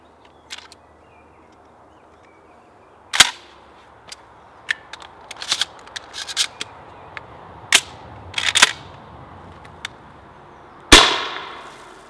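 A Benelli M2 inertia shotgun loaded with blank cartridges fires a series of weak, sharp pops, each a brief isolated crack with metallic clatter between shots, ending in one louder report.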